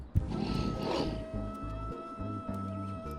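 A tiger's growl or roar from a cozy physics video game, a moderately loud rumbling cry at the start followed by softer low animal calls over a steady hum of game music.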